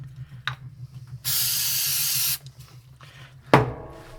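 Aerosol electronics cleaner sprays in one steady hiss lasting about a second, close and loud, while working on a high-temperature soldering mat, with a few small clicks and knocks of handling before and after.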